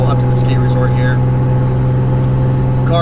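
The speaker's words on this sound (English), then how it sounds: "The car seems to be running just fine." A Mk3 Toyota Supra engine hums at a steady pitch while climbing a canyon road toward a ski resort, a constant in-cabin drone with road noise, and someone talking over it.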